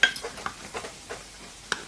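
Onions fry in a pan with soft sizzling while a utensil stirs and scrapes in short, irregular strokes, close and fairly quiet.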